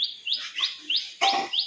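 Pigeons offered for sale give a run of bright, rising chirps, about five or six short calls repeating every third of a second, close by and clear with no talking.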